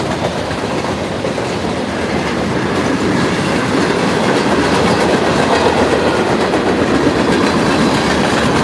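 A freight train rolling past at night, a loud continuous roar of wheels on rails with rhythmic clickety-clack and rumble, close and steady throughout.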